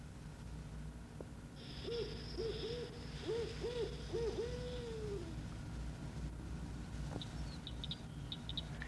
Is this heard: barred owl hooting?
yes